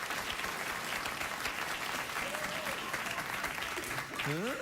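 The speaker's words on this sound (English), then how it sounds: "Oh, spontaneous, not chicken-related applause." Studio audience at a late-night talk show applauding in a dense, steady roar that fills the whole stretch, with a brief voice rising near the end.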